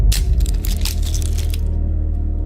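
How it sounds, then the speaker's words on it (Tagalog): An egg cracked into a glass of water, a close, loud crunching crack with brittle crackles, then a low steady hum to the end, with no voices. "binasag ko nga ang itlog sa isang basong tubig"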